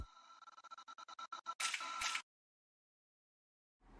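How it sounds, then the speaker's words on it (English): A vocal riser effect built from a Cymatics sound plays as a stuttering run of chopped vocal pulses that speed up and rise. It then swells into a bright, noisy burst and cuts off into silence. "I also have this vocal riser here."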